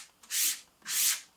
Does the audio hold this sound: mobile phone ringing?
no